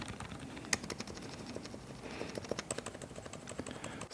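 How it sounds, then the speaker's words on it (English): Fast, steady typing on a be quiet! Light Mount mechanical keyboard, with crisp close-up keystrokes clattering in a continuous run and no talking. "And then as I type on the keys here,"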